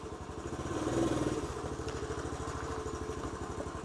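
A Honda CT110 motorcycle engine idles steadily up close after a short rev, its low, even putter holding with a faint flutter and no talk over it.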